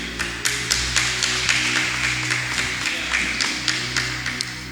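A church congregation claps together during a worship service, a steady run of sharp, evenly spaced hand claps repeating through the whole stretch over a low sustained hum.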